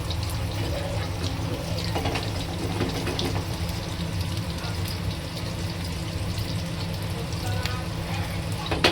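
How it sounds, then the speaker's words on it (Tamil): Vadagam dropped into hot oil as a tempering for fish curry, giving a steady, dense sizzle and crackle of frying that runs loud and unbroken throughout, with faint kitchen background. "நல்லா எண்ணெய் சூடாகிடுச்சு. இப்போ பாருங்கள், வடகம் போடுறேன்."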